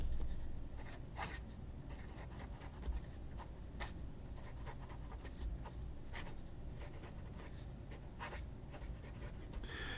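A fountain pen with a MAJOHN flex nib scratching across paper, faint and close, with short irregular strokes and scratches over a low background hum, no talk.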